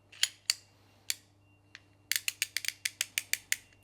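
Rothenberger 42mm twin pipe cutter mechanism being handled, giving a few separate ratcheting clicks and then a quick, close run of crisp clicks.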